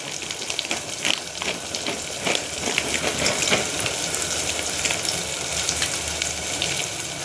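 Peanuts dropped into hot oil for a homemade vegetable pulao with soybean sizzle and crackle steadily, with bright popping spatters over a constant frying hiss, close up and without talk.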